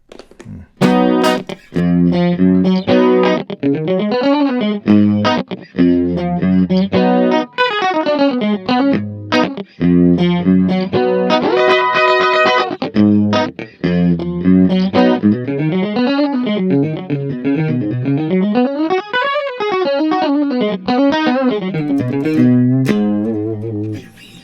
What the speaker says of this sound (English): Right, so that's the chorus sound.